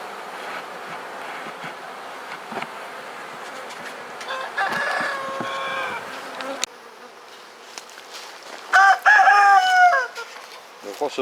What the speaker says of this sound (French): À l'entrée de la ruche également, certaines abeilles battent le rappel.